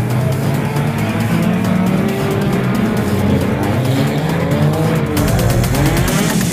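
Scrap cars race flat out at a wreck race, their engines roaring loudly and continuously up close, with revving and a burst of tire squeal and skidding toward the end. No one speaks.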